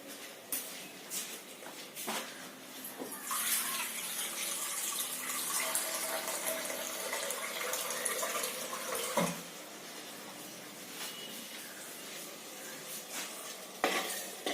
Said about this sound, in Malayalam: ഇനി നമുക്ക് ഇതിനകത്തേക്ക് ആവശ്യത്തിനുള്ള വെള്ളവും കൂടി ഒഴിച്ച് നമുക്കൊന്ന് തിളപ്പിക്കാം.